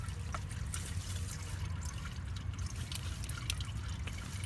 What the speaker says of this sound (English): it looks like the oil's just about drained out here. We're going to let it trickle for a little bit.